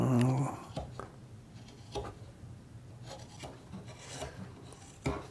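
A hand saw cuts across the end grain of a clamped wooden workpiece, giving faint, close, rasping strokes in an irregular rhythm. A short burst of speech comes at the start.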